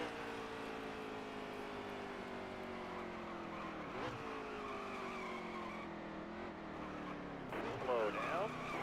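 A race car from a racing video game rolls into the pit lane, its engine droning steadily with shifting tones and a brief tire squeal near the end, loud and continuous.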